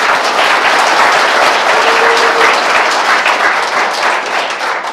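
Large audience at a lecture event in Daegu gives a loud, sustained round of applause, a dense continuous wash of clapping with no talk over it.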